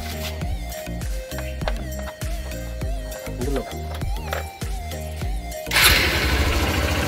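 A Honda Shine SP 125 motorcycle engine, its exhaust recently muddied, starts near the end as a sudden burst of rough broadband engine noise after a long stretch of rhythmic background music, with voices present.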